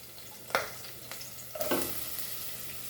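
Onion goes into a pan of oil with cumin seeds for Goan-style masoor dal, a soft continuous sizzle broken by two sharper bursts as pieces hit the pan and a spatula scrapes.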